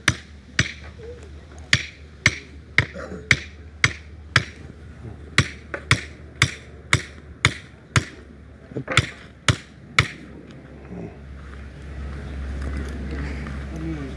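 A wooden stake is hammered into the ground to mark a house post position at a building site, about fifteen sharp, regular blows in quick rhythm, loud and close, then stopping as background noise and talk rise.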